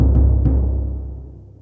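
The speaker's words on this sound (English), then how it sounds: "And then the JV1080 patch sounds like this." Synthesized timpani from a Roland JV-1080 ceremony timp patch: a deep, booming drum stroke with a quick second hit, then a long rumbling decay that fades out alone.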